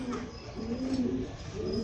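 Pigeons coo softly at bath time, a close, low, wavering murmur that rises and falls continuously with no talk.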